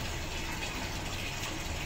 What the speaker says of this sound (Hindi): तो जी इसमें पानी भर रहे हैं